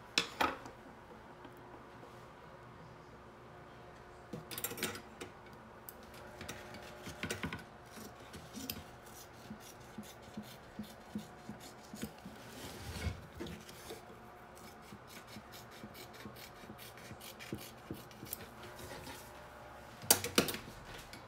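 Vinyl being trimmed away by hand: soft intermittent scraping and cutting rasps with small clicks and taps, close but quiet, spread irregularly over a faint background with no talk.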